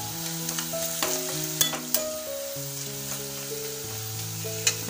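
Red chili powder being stirred into steamed potatoes in a pan for sabudana khichdi. A soft, steady sizzle runs throughout with a few sharp spatula scrapes, under background music.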